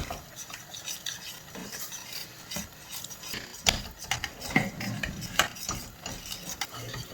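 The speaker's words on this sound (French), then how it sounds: "Et on mélange jusque ça devient bien dur." A spoon or whisk stirring milk into a flour sauce in a pan over lowered gas heat for an endive gratin, with steady close scraping and clinking of utensil against metal and a soft bubbling beneath.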